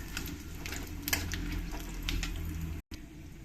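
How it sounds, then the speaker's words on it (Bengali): Whole spices, bay leaf, dried chilli and cumin seeds fry in hot oil, giving a soft, steady sizzle and crackle close by with a few louder pops, no talking. "এর মধ্যে দিয়ে দেবো কিছু গোটা মশলা তেজপাতা শুকনো লঙ্কা আর কিছু জিরে দিয়ে আমি এগুলোকে একটু ভালো করে ফ্রাই করে নেবো"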